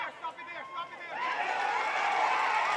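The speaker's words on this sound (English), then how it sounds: "You can hear the crowd from the team" A crowd swells into a loud, steady roar for the Haitian team at a women's under-20 football match between Haiti and Guyana, with chatter beneath it.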